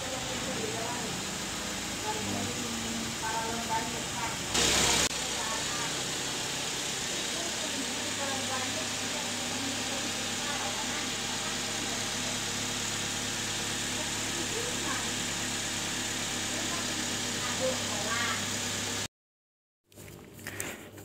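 Suzuki Swift car engine running at a steady idle after being started, a continuous low hum that holds evenly for about twenty seconds before cutting off briefly near the end.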